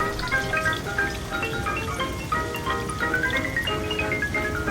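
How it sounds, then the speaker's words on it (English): Fountain and waterfall in a late-1940s water garden at the rear of a historic Fremantle house, giving a steady, continuous splash of running water at moderate level with no talk. "that's the fountain and waterfall at the rear of the property"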